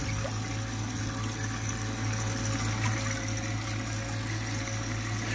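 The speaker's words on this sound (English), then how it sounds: "it's got the same thread pattern as your normal recirc pump" A recirculating pump hums steadily in a boat livewell set up as a filtered bait tank, with continuous water flow and trickling over a constant low drone, no voices.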